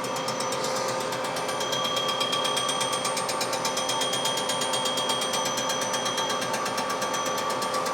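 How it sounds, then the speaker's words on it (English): A 14-inch fly cutter spins at 630 RPM on a milling machine, feeding at 160 mm per minute across a Chevy 235 engine part. It gives a steady, fast, ticking mechanical chatter with a constant whine, close and continuous throughout. "So it's about a 14-inch fly cutter spinning at 630 RPM."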